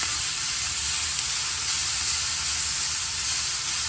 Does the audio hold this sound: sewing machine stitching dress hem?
no